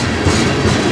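A westbound CN freight tanker train hauled by locomotives CN 5791 and CN 2500 passes through Sarnia in the snow, a loud close rumble with rhythmic wheel clatter over a single second.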